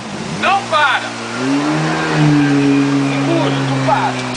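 Jet ski engine revving and accelerating continuously, a loud mid-pitched drone that rises and holds, with excited voices shouting over it.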